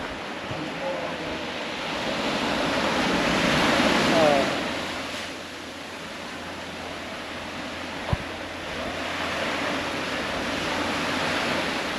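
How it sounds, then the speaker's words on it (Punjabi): Sea waves at Cathedral Cove, New Zealand, surging and washing ashore in a steady broadband roar that swells and eases, with wind across the microphone and occasional voices in the background. "ਆ ਦੂਜੇ ਪਾਸੇ ਸਮੁੰਦਰ ਮਾਰਦਾ ਛੱਲਾ"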